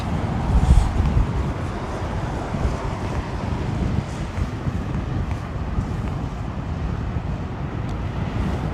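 Blustery wind buffets an open outdoor spot at London Heathrow Airport, a loud, continuous low roar with gusts rumbling against the microphone throughout, no talking.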